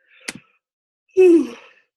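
A single drawn-out yawn, close and fairly loud, rising then trailing off, preceded by a brief soft breath.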